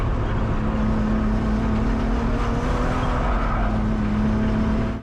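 A BMW E36 race car in a grip race laps a track with elevation changes, its engine holding a loud, steady, droning note close up, with tyre noise underneath and no talking.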